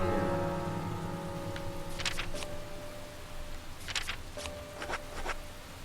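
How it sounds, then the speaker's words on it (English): Rain falls steadily in the horror video game Deadly Premonition, a continuous hiss of drops on surfaces with a few sharp brief clicks and buzzy bursts scattered across it, gradually easing, with no voices. "We'll get out of the rain here."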